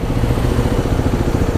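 Kawasaki KLX300sm supermoto motorcycle engine running close by, a loud, steady single-cylinder thrum with a rapid pulsing exhaust beat, heard alone without voices.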